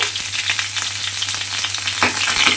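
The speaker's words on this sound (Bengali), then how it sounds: "অল্প একটু নুন দিয়ে পটলটা কিন্তু আমি এখানে একটু ভেজে নেব।" Pointed gourd (potol) pieces fry with a little salt in a pan, giving a steady close sizzle with occasional stirring scrapes and crackles.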